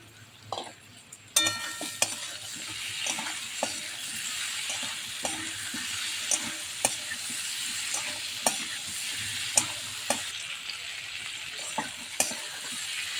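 Potatoes fry in a pan with cumin powder and chopped tomato, giving a steady sizzle broken by regular scrapes and taps of a spoon stirring against the pan, close and with no voices.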